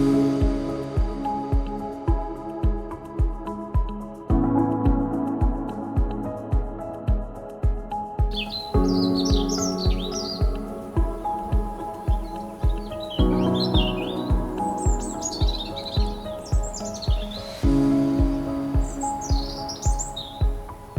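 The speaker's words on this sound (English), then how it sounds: "Their song, a series of cheerful, cheerily, cheer up notes, is one of the first sounds" An American robin's bright, chirping song phrases repeat over a steady, rhythmic musical backing, the bird notes coming in short bursts.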